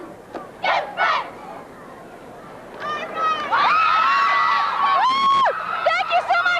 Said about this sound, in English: a fantastic cheer